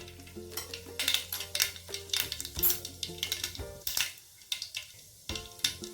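A spoonful of mustard seeds crackles in two spoons of hot oil in a pan while cooking a Maharashtrian rajma curry: a dense run of sharp, close pops and clicks over a soft sizzle.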